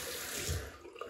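Water added from a running tap while lathering a shaving brush with Barbasol Original shaving cream, a brief steady splashing rush heard up close and alone.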